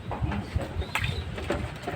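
A bird calls in soft, repeated coos at a moderate distance, with faint rustling around it and no talking.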